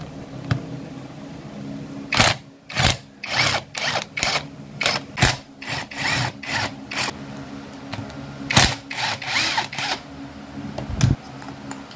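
An impact wrench works screws loose from the burnt magnetic coil of a Nissan NV350, firing in a series of short, sharp bursts with brief pauses between them, close and loud against faint background noise.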